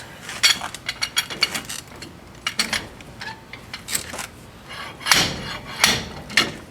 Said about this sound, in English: I was able to pull it out this far with the slide hammer